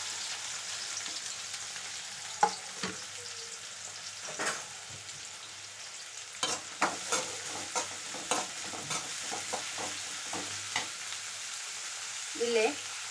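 Onion and curry leaves frying in a pan, a quiet steady sizzle broken by irregular scraping and tapping of the stirring utensil, with a few sharper clicks.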